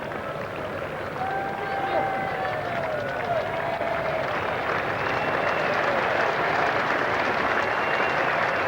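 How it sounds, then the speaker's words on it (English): A crowd at Lord's applauds during the 1986 England v New Zealand Test match, a steady, distant spread of clapping that holds throughout while a commentator speaks over it. "That's the applause."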